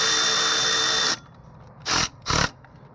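A Milwaukee 2564 3/8-inch right angle impact wrench runs continuously as it backs off a fastener, stops, then gives two short separate bursts; close and loud with quiet gaps between.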